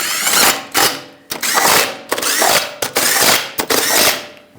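A torque wrench tightens lug nuts on a 2006-2011 Honda Civic wheel, loud close ratcheting bursts repeating in a steady rhythm, each run of clicks broken by brief pauses.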